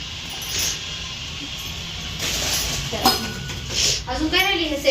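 Drinking glasses clink as they are handled and shown, with a few light, sparse clinks scattered among a woman's speech in a home.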